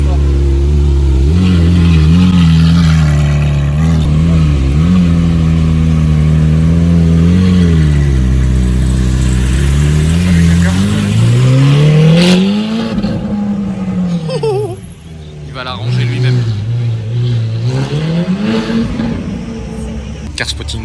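Porsche Carrera GT and Porsche 918 Spider supercars rev loudly at night in Monaco, engine pitch rising and falling through several sustained pulls, close and dominant, with voices talking over them.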